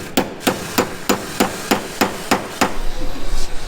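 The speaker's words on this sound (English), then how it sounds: "They actually still do real body work with hammers," Hammer blows on a rusty 1974 Porsche 911 Carrera body at a collision repair shop, about nine sharp metallic strikes in a steady even rhythm, loud and close, followed by rumbling shop noise.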